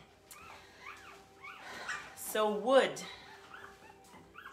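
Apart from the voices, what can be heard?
puppies whimpering and yipping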